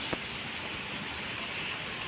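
Steady rainfall, a soft, even hiss of drops pattering on surfaces, faint and continuous with one brief tap near the start and no one speaking.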